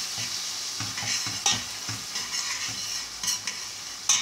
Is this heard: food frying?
yes